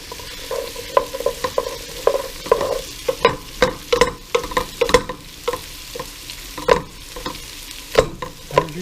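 Chopped vegetables and garlic sweat in a pot for beef stew, sizzling steadily while a spoon stirs and scrapes in repeated clattering strokes, close and fairly loud, without speech.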